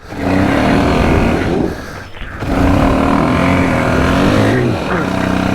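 A one-wheel-drive car stuck in place revs its engine loudly and steadily, easing off briefly midway before roaring again, with a voice talking over it.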